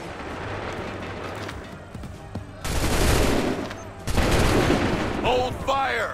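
Volleys of musket-style gunfire burst out in the video game Assassin's Creed III, two loud dense fusillades following a quieter stretch, with shouted commands and battle noise around them.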